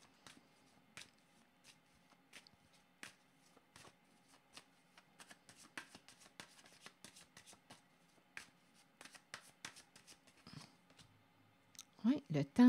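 Tarot cards are shuffled by hand in a steady run of soft riffling slaps and flicks, fairly close and quiet, with a louder burst of handling near the end and no voice over it.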